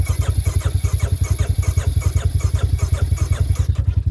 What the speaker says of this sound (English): Alright, I'm going to do no choke. Should start up pretty easy. Starter's strong in it.